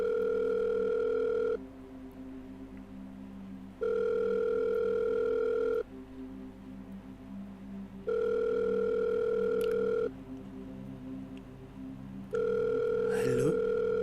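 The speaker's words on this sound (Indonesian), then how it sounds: "Telepon rekanku." Video game phone call ringing tone, four long electronic dial-style tones evenly spaced with short quiet gaps, clear and close, no talking.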